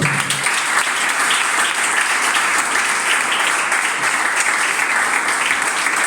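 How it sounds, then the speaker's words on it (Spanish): A church congregation gives loud, dense applause to the Lord, a continuous roar of many clapping hands sustained evenly from start to finish. "le doy un fuerte aplauso al Señor"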